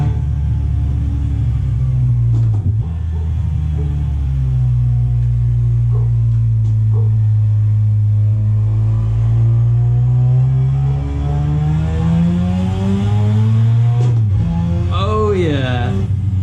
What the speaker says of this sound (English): Listen to the turbo spool.